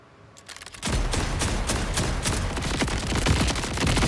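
In the Borderlands 4 video game, the legendary Bod gun fires a full magazine as a rapid, dense burst of shots that stays loud and continuous after a short quiet start.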